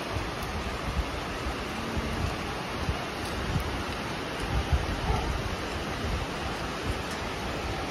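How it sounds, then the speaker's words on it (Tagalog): Heavy rain pours during a typhoon, a steady, dense hiss with faint low rumbles throughout and no voices. "Ulan na to."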